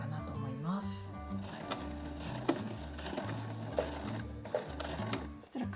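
A sewing machine stitches around the edge of a handmade granny bag, running as a steady mechanical whir with light rhythmic clicks over a soft background tune.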